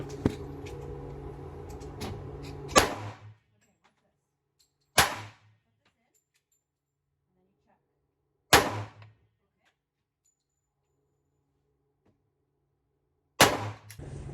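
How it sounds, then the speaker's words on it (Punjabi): A 1911 handgun fires four separate sharp, loud shots on a shooting range, spaced irregularly with silence between them, the first shot rising out of a stretch of background noise. "ਹੁਣ ਸ਼ੂਟ ਕਰਕੇ ਦੇਖੀਏ।"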